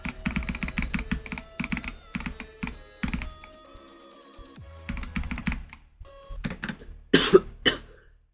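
A person coughs in short bursts near a microphone while rapid computer keyboard typing clatters steadily underneath, with a louder cluster of coughs toward the end.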